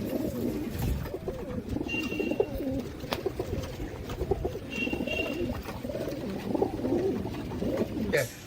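Pigeons coo close by in repeated low, throaty phrases over a murmuring background, with someone speaking throughout.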